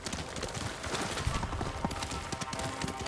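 Horse hooves clip-clopping in Ghost of Tsushima, a steady run of dull rhythmic thuds over continuous game ambience and a busy background mix, fairly close and moderately loud.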